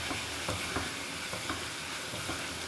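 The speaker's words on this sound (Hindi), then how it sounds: "इसको मैं अच्छी तरह से ये सारी चीज़ों को भून लूँगी" Masala and tomatoes with roasted whole cumin are stirred and roasted in a pan for chicken biryani, giving a steady low sizzle with soft, regular scrapes of the spoon, close and without voices.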